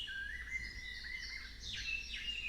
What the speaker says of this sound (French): rempli des chants mélodieux des oiseaux et du murmure rassurant des feuilles dans les arbres